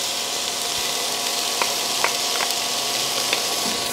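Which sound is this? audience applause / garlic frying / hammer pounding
garlic frying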